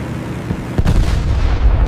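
Anti-aircraft flak fire from radar-guided guns in a WWII air battle: a loud, deep boom bursts out after a low rumbling hum, then rolls on as heavy, dense blast noise.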